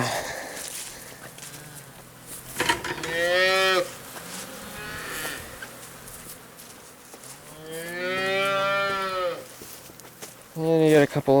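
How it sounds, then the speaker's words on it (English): Several cows low from farm pens with freshly cleaned bedding, long harmonic moos rising at intervals, one short and close, one long and drawn out, then another starting at the end, with faint barn noise and shuffling between calls. "They just got their pens cleaned out, so they're happy little cows right now."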